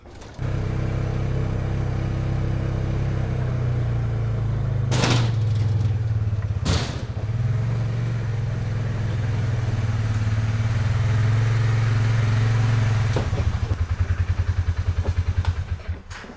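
A Polaris utility vehicle engine runs steadily close by as it drives onto a trailer, a loud continuous drone broken by a couple of sharp clanks.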